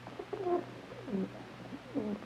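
Pigeons of exotic bred varieties cooing softly, three short throaty coos spaced about half a second apart over a low steady hum, fairly faint and without speech.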